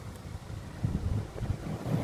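Strong typhoon wind roars in a steady, broadband rush with low gusty buffeting against the microphone, with no voices.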